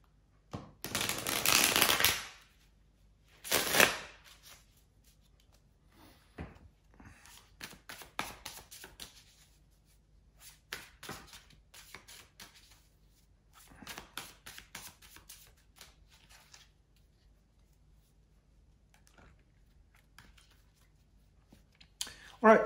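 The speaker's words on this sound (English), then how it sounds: "just bear with me a second, guys, to shuffle the cards" Tarot cards shuffled by hand in bursts of riffling and tapping, loud and crisp at first, then lighter repeated taps and slides, with no talking.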